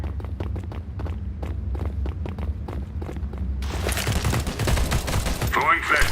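Gunfire in the video game Counter-Strike: Source: rapid repeated gunshot bursts in a steady rhythm through the first half, then a denser, louder burst of fire and commotion toward the end, with no talk.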